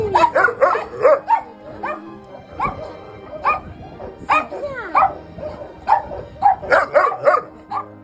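Several dogs bark and yip in bursts at an animal shelter kennel in Vermelles, with overlapping barks of varying pitch, some whimpering, and people talking faintly underneath.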